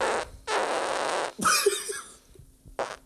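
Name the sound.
fart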